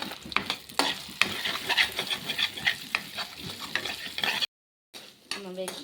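Egg pieces fry in a pan for egg rice, a soft sizzle under repeated spoon scrapes and clinks of stirring, with a short pause then a little more stirring.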